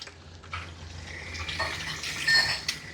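Water running and splashing as a dog's fur is rinsed in a bath during skunk odor removal, a steady close stream with shifting gurgles and splashes.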